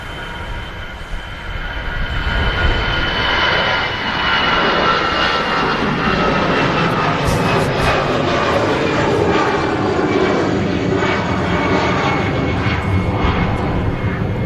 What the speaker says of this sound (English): It's an EasyJet that's currently rolling on the